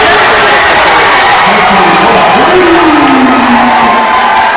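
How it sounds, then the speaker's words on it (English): A rowdy high school student section at a basketball game cheers and shouts loudly, a dense crowd roar with whoops, while a commentator's voice rises over it. "Love that Newman crowd getting into it. We haven't seen the student section get that rowdy yet this year."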